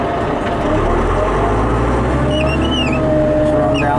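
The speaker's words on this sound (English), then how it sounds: "Now they'll drive over my pile I just drug out of that driveway." A vehicle rolls over a freshly plowed snow pile beside a driveway, a continuous low engine rumble and crunching drive noise that grows slightly heavier midway, with faint squeaky tones above.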